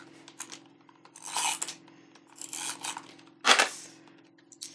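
A Gemini die-cutting machine pulls card through its rollers, producing close scraping and rubbing bursts in a few separate passes with quiet gaps between them and a steady low hum underneath.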